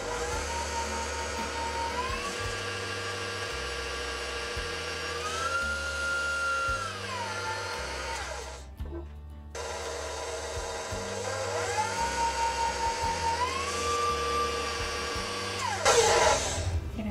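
Electric mixer with a whisk attachment whips royal icing for sugar cookies, a steady loud motor whine that rises and falls in pitch as the speed shifts, cutting out briefly near the middle before running on. No one speaks.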